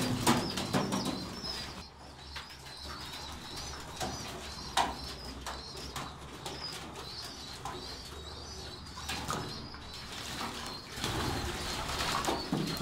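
Pigeons splash and flap their wings vigorously while bathing, with repeated bursts of wingbeats and water over a background of soft cooing and calls from the flock, close and lively throughout.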